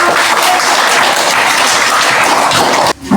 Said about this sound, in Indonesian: kita beri dulu tepuk tangan untuk